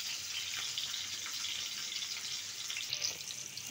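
Chopped onions fry in hot oil in a pan, giving a steady close hiss and sizzle with small crackles and no break, for a dish of taro stolons and hilsa fish.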